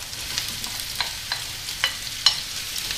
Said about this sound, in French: j'ai mis une poêle à chauffer avec de l'huile d'olive. Je vais y ajouter donc l'oignon et les rondelles de courgettes